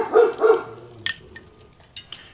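A neighbour's dog barks twice in quick succession at moderate distance, two loud yelps near the start, followed by quieter clicks and rustling in a kitchen where eggs are being peeled for pickling.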